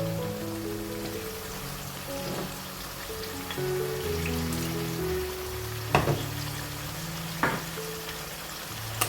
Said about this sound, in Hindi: अब आपने मसाले को अच्छा सा भूनना है इसके साथ।